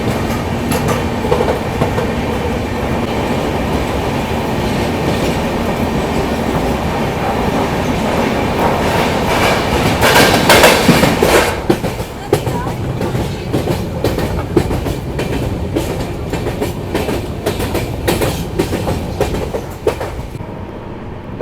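A train on the Jammu–Srinagar line runs through a tunnel with a loud, steady roar and rattle. Rhythmic wheel clatter builds and then continues without a break, and no one speaks.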